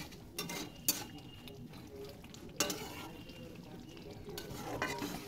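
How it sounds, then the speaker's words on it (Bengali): A spoon stirs meat curry with meat masala in a pan with very little water, giving scraping strokes and a few sharp clinks against the metal over a soft, continuous sizzle. "মিট মশলা দেওয়ার পর ভালো করে মিশিয়ে নিলাম।"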